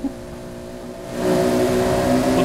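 A Hot Wheels racing car engine in Forza Horizon 4 hums at a steady pitch, then swells louder and rises into a sustained full-throttle roar that holds to the end.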